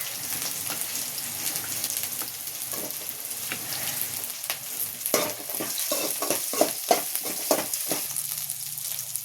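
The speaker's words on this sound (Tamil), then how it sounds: "கருவேப்பிலை சேர்க்குறாங்க." Pumpkin dry fry sizzles in a pan with curry leaves while a spoon stirs it, giving steady frying hiss and a string of scraping clacks that grow busier toward the end.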